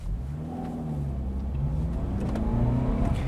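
A 2nd-generation Honda CR-V engine holds about 3,200 RPM in 5th gear, a steady mid-pitched drone with a faint rising whine, close and continuous inside the cabin, with no talking.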